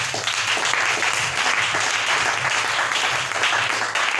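A church congregation applauding to acclaim the Lord, a dense, steady wash of clapping from many hands that fills the room and holds at the same level throughout.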